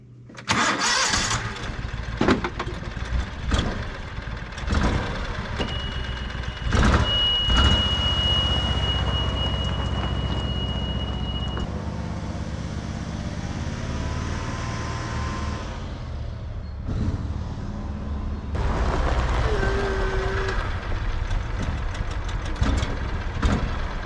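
A John Deere Gator utility vehicle engine cranks and catches, then runs at a steady mid-pitched idle close by, with a brief dip and revving toward the end and a few clanks of handling, no voices.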